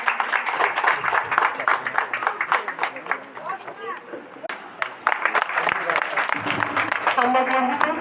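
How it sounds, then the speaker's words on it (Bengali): An audience at a school swimming competition event claps loudly and steadily, with crowd murmur and a voice speaking over the applause partway through. "সবাই করে হাততালি দিই।"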